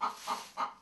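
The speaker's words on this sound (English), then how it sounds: "Every day, Anne Maria cleans out her family's chicken coop and collects the eggs." Chickens in a family's chicken coop give three short, evenly spaced clucks in quick succession. The clucks are close and moderately loud.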